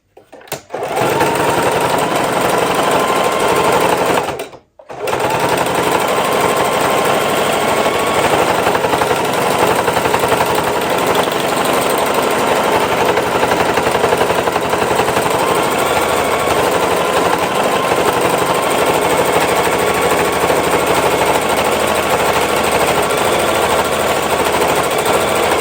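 A sewing machine stitching around a leather pouch runs in a loud, steady, rapid mechanical drone, close to the listener, with one brief stop a few seconds in before it resumes without a break.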